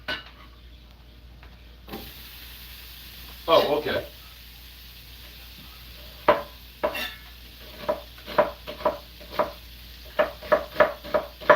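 Garlic sizzles in butter in a pan beside the faint hiss of the hot fat, with sharp knife chops on a board and clatter growing quicker toward the end, while a voice speaks briefly nearby.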